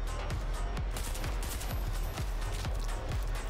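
Rapid gunfire bursts in a video game crack in a steady, repeated rhythm over a dense, loud game soundscape with no talk.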